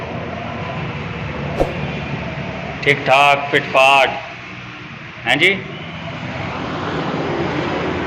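A restored Suzuki Wagon R engine with its tappet noise cured runs at a steady, even idle, a constant hum under brief bursts of a man's speech.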